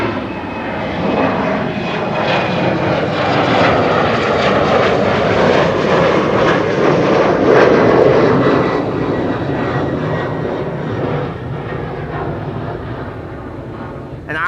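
A6-EOW, an airliner departing Schiphol's runway 24 (Kaagbaan), roars loudly and steadily as it climbs, its jet engine noise swelling to a peak midway and easing slightly toward the end.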